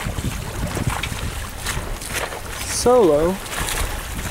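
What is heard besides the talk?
sailboat sailing past Islandview Beach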